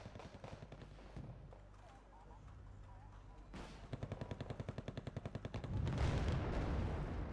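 Gunfire from a Dragunov SVD sniper rifle in the strategy game Wargame: Red Dragon: a quick regular string of sharp shots amid battlefield noise, followed by heavier rumbling blasts.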